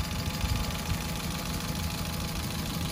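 A 2015 US-made car's 1.0 litre four-cylinder engine idles smoothly, a steady, even mid-low rumble that stays close and constant throughout with no voices.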